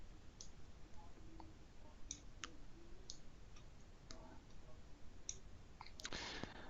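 Sharp mouse clicks from someone setting up a custom software view, spaced irregularly, with a brief burst of quicker clicks near the end against a low steady hiss.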